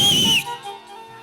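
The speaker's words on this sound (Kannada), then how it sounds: "ಏ ಹಾಕ ನಿನ್ನ ಸೀಟಿ" A sharp, shrill whistle is blown on stage during a Kannada folk drama, one loud piercing blast lasting under half a second before fading into quiet room tone.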